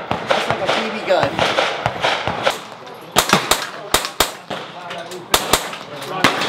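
Quiet shots fired through an Artemis-X suppressor, a run of sharp, close cracks spaced irregularly, with people talking and reacting between them.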